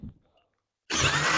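After a near-silent pause, a 12-volt SKIL cordless drill suddenly whirs to life and bores loudly into oak without a pilot hole, a dense grinding roar close by.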